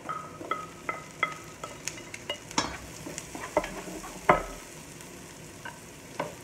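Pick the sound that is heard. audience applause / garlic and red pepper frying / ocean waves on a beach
garlic and red pepper frying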